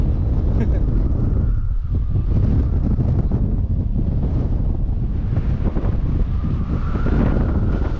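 Fierce wind batters the microphone near the water at Souris Swing Bridge, a steady loud roaring rush with gusts swelling and easing throughout.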